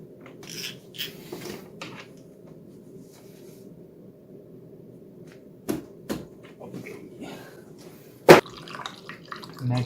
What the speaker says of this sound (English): Let's just pour the rest of it in the expansion tank.